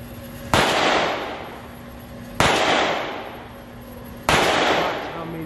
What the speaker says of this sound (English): I'm finna shoot 60 feet away.